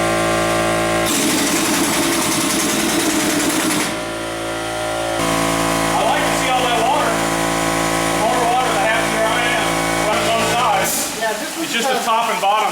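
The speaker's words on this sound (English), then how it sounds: "let's take a look at the video where we drill that hole" A power drill whines steadily for several seconds, drilling a hole in a Titan II missile site hatch, its motor pitch shifting as it bites into material, with a voice talking faintly underneath.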